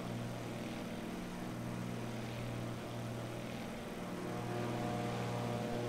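A propeller airplane comes in to land in Microsoft Flight Simulator 2020, its engine a steady, even droning hum with strong low harmonics, alone and fairly quiet.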